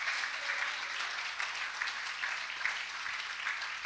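A church congregation claps steadily throughout, a dense, even wash of applause with no talk over it.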